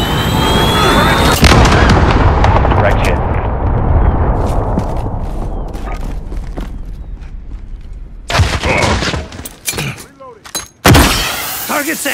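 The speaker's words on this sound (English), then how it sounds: "Cruise missile ahead." A cruise missile strike in Call of Duty Modern Warfare lands with a heavy blast and a long rumbling decay. Scattered sharp impacts, crackles and battle noise follow, with a few louder bangs near the end.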